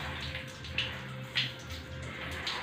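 Water runs steadily while a dog named Sniper is bathed, a soft continuous flow punctuated by a few brief splashing spurts.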